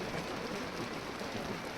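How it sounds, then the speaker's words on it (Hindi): Hail falls near Parashar Lake during a hailstorm, a dense, steady patter and hiss of ice pellets striking surfaces close by, with no voices over it. "यहाँ देखो ये क्या आने लग गया अंदर, भाई साहब ओले"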